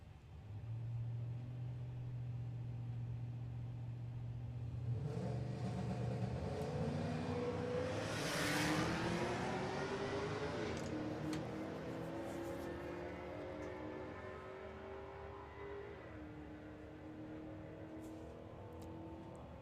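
Drag racing run between a Z28 Camaro and a Mustang at a sportsman nationals event: a steady idle rumble swells into hard acceleration, engines revving upward as the cars launch and pull away, fading into the distance.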